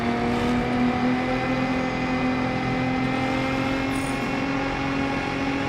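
Bugatti engine sound from the racing game Test Drive Unlimited Solar Crown, a steady continuous drone with strong harmonic tones, loud and constant throughout, without clear revving peaks.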